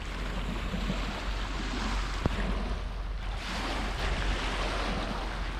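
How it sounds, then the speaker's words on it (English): High water of the River Humber laps over a riverside path, a steady broadband wash of surf-like water with gusting wind buffeting the microphone throughout, close and continuous with no voices. "So the water is lapping over the path still because the water's still in quite high."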